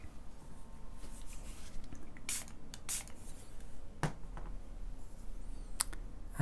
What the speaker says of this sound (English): I need to just spray it.